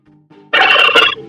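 A farm turkey lets out one short, loud gobble after a faint low lead-in, a rapid rattling burst heard up close and alone.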